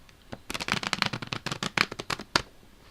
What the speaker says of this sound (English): you can do some like really fast or tight shuffles